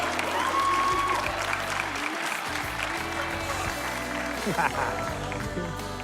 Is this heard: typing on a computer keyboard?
no